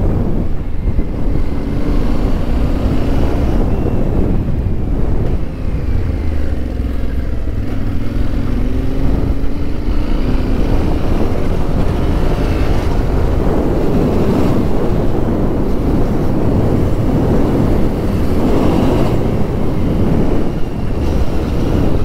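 A Yamaha T7 motorcycle climbs a trail with a loud, continuous engine drone and heavy wind buffeting across the microphone, and no one speaks.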